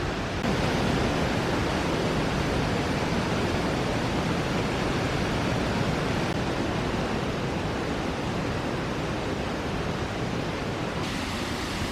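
A waterfall at Curacautín roars at full force in midwinter after heavy rains, a dense, steady rush of falling water that fills the scene without pause or other sounds.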